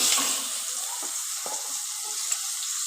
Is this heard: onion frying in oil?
yes